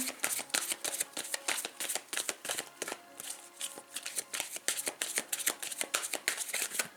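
Belline oracle cards being shuffled by hand, a rapid run of crisp riffling and slapping bursts that goes on without a break, heard close and with nobody speaking.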